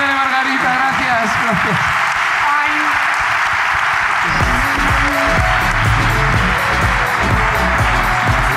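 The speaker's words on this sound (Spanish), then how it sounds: "Aplauso para la ruina de Margarita, gracias." Applause from a live podcast audience in Tarragona, a broad steady patter of clapping filling the room, with voices and laughter mixed in over the first half before the clapping swells louder and denser.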